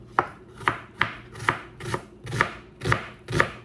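A knife slices a pungent white onion on a cutting board in seven steady, evenly spaced cuts, each a crisp close thunk with no talking.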